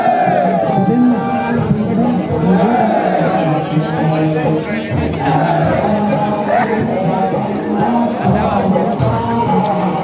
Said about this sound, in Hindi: बहुत बड़ी भीड़ यहाँ पे